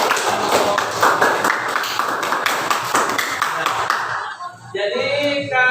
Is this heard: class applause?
yes